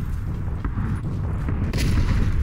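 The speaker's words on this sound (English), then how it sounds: "That was a really cool explosion." A deep boom from an in-game explosion during a PUBG duos match, with rumbling low-end blasts and a few sharper hits in the background mix.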